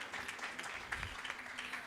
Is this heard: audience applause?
yes